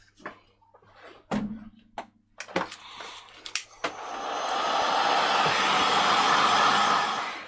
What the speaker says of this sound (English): Normally I would leave it to dry naturally, but I've just heat gunned it.